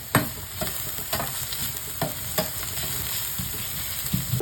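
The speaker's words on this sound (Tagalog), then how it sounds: "Mainit na yan, kaya ilagay na natin ang ating bawang at sibuyas." Garlic and onion sizzle in hot oil in a pan, a dense continuous frying hiss broken by regular sharp stirring clicks, close with no talking.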